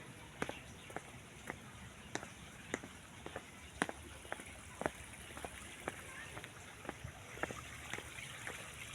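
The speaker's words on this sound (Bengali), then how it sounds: "ঝর্ণা পাহাড়ের ঝর্ণার পানি দেখুন কত সুন্দর" A hillside waterfall's water flowing as a faint, steady trickle and rush, heard from a distance and broken by soft, regular ticking steps close by.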